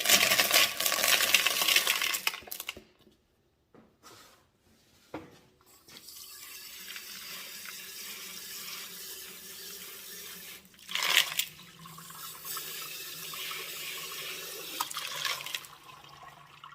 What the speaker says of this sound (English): Rinse them off here, we'll take a look.